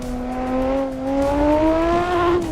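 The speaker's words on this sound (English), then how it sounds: "Harry, this is a V6 from, this is a Lotus." Lotus V6 engine in a racing simulator game, a steady rising drone as the car accelerates, the pitch climbing smoothly over a couple of seconds with rough tire noise beneath.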